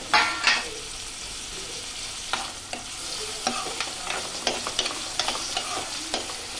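Onions and vegetables for pav bhaji stirred in a pan, with repeated scraping and knocking of the spoon over a continuous sizzle, close by and fairly steady.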